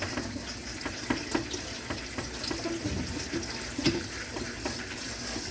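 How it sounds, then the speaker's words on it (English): Water runs steadily from a kitchen tap while vegetables are rinsed under it, a continuous close hiss and splash with small irregular splatters and no speech. "Get them nice and sprayed. Turn the water off."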